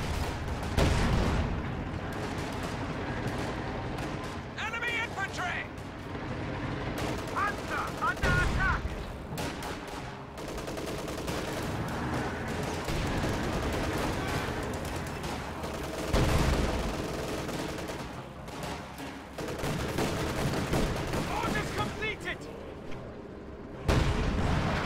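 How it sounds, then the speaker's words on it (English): A Priest self-propelled artillery gun bombards in a strategy video game, with repeated heavy booms and bursts of gunfire spread across a dense battle din, rising and falling in clusters. "Priest bombarding over here"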